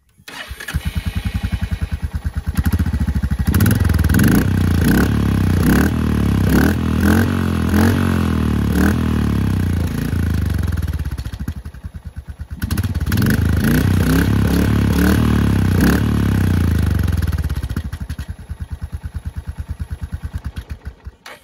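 A Royal Enfield Hunter 350 fitted with a performance exhaust and dB killer starts and revs in two loud, close bursts, its thumping exhaust pulses rising and settling between blips.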